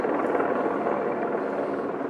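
A helicopter flies overhead with a steady, broad rotor and engine roar that stays loud and even throughout, with no talking.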